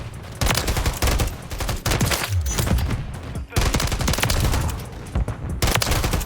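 Rapid automatic fire from the SVA 545 rifle in Call of Duty: Modern Warfare III runs as dense, loud bursts nearly without pause. Brief gaps break it up, and faint game effects sit underneath.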